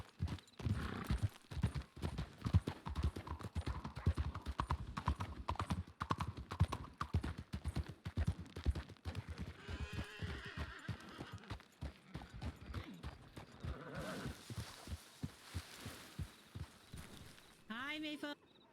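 Horse hooves clip-clop steadily through a video game world, moving at a walking pace with a brief whinny, under near-constant chatter from several players talking over one another.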